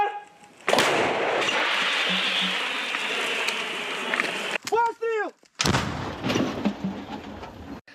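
An artillery gun fires: a heavy blast erupts into a long rumbling roar, fading, then a second loud boom follows after a short break, with a brief voice in between.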